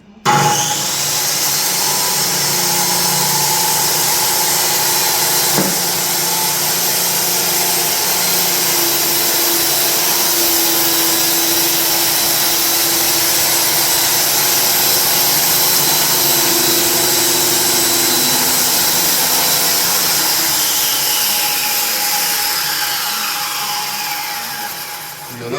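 A 7.25-inch circular saw cuts through a wooden butcher block countertop in one long, loud, steady roaring whine that holds for about twenty-five seconds before easing off, with no voices.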